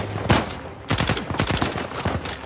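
Gunfire from a gun in the video game Uncharted 4, heard as several sharp, rapid bursts of shots close up. Short pauses separate the bursts, and there is no talking.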